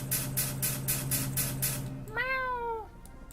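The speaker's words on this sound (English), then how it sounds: "is that a cat?" A cat in a blocky video game gives one clear, drawn-out meow, which follows a rhythmic pulsing game sound.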